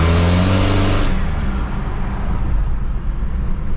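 Toyota Hilux Surf turbo diesel engine running nearby, a loud low rumble with strong harmonic drone that drops in pitch after a second, settling into a rougher idle-like chug, with no talking.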